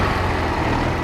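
A 1995 Ural Tourist motorcycle engine catches after a kickstart and runs steadily, a loud, continuous low rumble close by with no voices over it.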